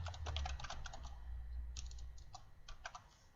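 Fingers tap on a computer keyboard in short, uneven clusters of quick clicks. The clicks are faint and close, with no talking over them.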